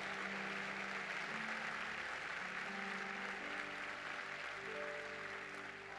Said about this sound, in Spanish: Dele ese aplauso fuerte al Cristo de la gloria